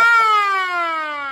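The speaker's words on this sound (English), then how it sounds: "That's an old siren." An old mechanical siren winding down, a loud harmonic wail that slowly falls in pitch over a second or so, heard alone.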